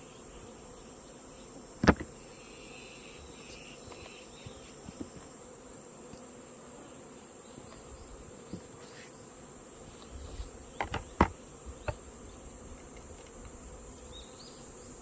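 Bees and wasps buzz faintly around a beehive in an apiary as daylight fades, a steady low insect hum with a few brief louder passes and clicks.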